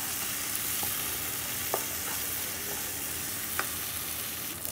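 Tomato masala with amchur powder cooking for bhindi do pyaza is stirred in a pan, giving a steady low sizzle with a few soft scrapes of the spoon spread across it; no one speaks.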